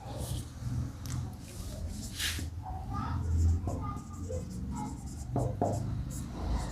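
A pen or chalk scratches out a maths question in quick bursts of close writing strokes, with a voice talking intermittently underneath.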